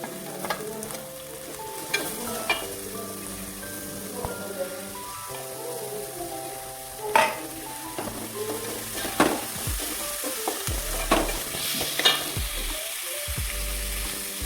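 Sliced onion sizzles in a hot pan with garlic and ginger for egg curry, crackling steadily while a spoon scrapes and stirs in repeated knocks, with a voice talking over it at times.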